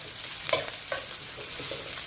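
Onion and green chilies frying with eggplant and khoira fish crackle in a steady, close sizzle, punctuated by two or three sharp spatula scrapes against the pan.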